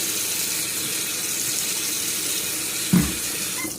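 Hot tap water runs steadily from a faucet into a sink fitted with a drain strainer, a constant broadband rush with a brief splashy knock near the end.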